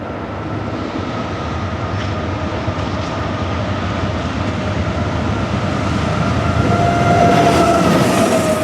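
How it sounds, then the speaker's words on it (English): Westbound freight train 39N passes beneath old Conrail signals in early morning light, a loud, continuous rumble and rattle of rolling cars close by that swells slightly toward the end. "Westbound 39N blasts under the old Conrail signals here in the golden hours of the morning."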